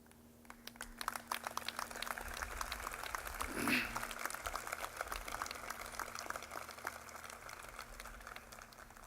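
Commencement audience at Oglethorpe University applauding, a quiet, dense wash of clapping heard from some distance, with a brief louder swell partway through.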